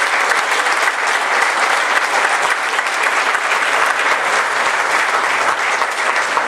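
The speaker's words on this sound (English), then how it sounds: "Can we give them a huge round of applause, please?" Community council breakfast audience gives sustained, loud applause, a steady unbroken roar of many hands clapping throughout with no speech over it.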